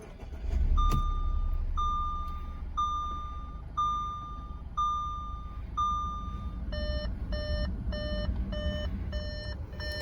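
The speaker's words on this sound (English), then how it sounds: "Or you can start it up the other way by inserting your key fob," A 2014 Audi A5 2.0T Prestige coupe with a manual gearbox, started with the key fob inserted: a steady repeating dashboard chime turns into a quicker multi-tone chime pattern over a low engine rumble, with no talking.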